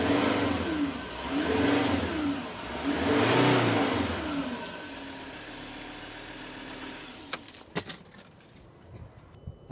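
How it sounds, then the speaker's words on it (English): A Ford Ranger diesel engine, running after a burst intercooler pipe was replaced, revs up and down twice in close, loud swells, then settles to an idle while a few sharp clicks and clanks sound nearby. "start the engine and make sure she sounds nice"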